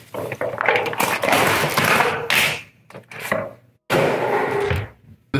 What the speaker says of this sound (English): So I got my little purple knife. Let's cut this